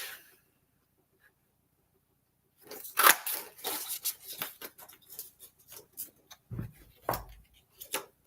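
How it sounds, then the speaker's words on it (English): Decorative paper is punched or cut into a circle, giving close, faint crunching and snipping clicks in irregular bursts after a quiet start. "And then I'm going to punch out a circle from this paper too"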